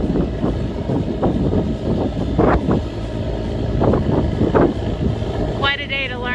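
Strong wind at a house-framing site with a crane buffets the microphone in a constant low roar, with a brief high whine near the end.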